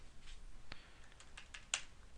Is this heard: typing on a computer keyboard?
yes